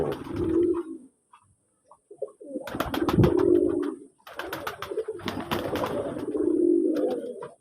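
Pigeons in a loft in Manikganj coo in repeated soft, throaty bursts, three main phrases separated by brief pauses, close and clear with no talk.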